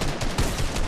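Gunfire in the video game Fortnite, heard as a quick burst of sharp, loud shots packed into under a second.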